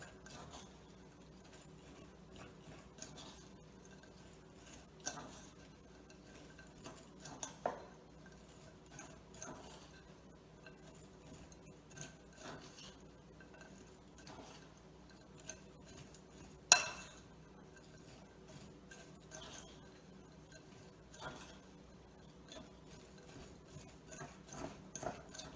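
Almonds stirred in a bowl to coat them in a dry cinnamon mixture, producing quiet, scattered scrapes and soft rubbing with occasional light clinks, one a little sharper partway through.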